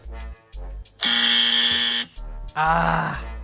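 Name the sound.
soundboard wrong-answer buzzer sound effect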